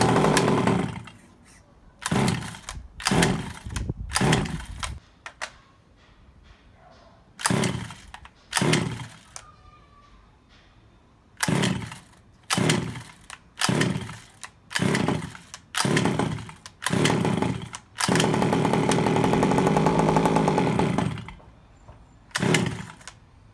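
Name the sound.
Rovan Baja 5B RC car gas engine starting and running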